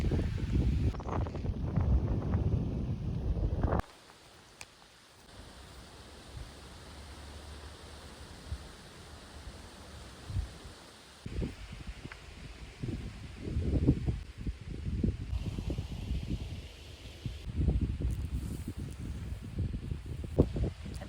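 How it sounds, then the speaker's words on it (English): Strong wind gusting around an old tree, a broad steady rush with rustling that swells in bursts, loud at the start, dropping to a softer hiss in the middle and rising again near the end. "It's really windy here"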